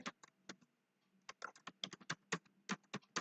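Computer keyboard typed on while entering Python code in a Jupyter Notebook, a quiet, irregular run of crisp key clicks with short pauses, heard alone.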